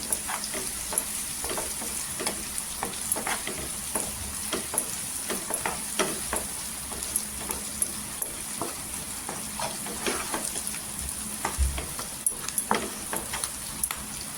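Onions fry in oil until golden for a quick potato curry, a continuous close sizzle punctuated by frequent rhythmic clicks and scrapes of a spoon stirring against the pan, with one dull knock near the end.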